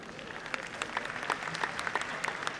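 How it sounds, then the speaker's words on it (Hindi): Steady applause from an audience at a Hindi comic poetry gathering, many hands clapping together continuously at a moderate distance, with no voices standing out. "देखिए क्या ताली बजा रहे हैं।"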